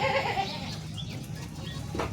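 Goats at a rural home bleat faintly in the distance, a few short calls over a soft outdoor background.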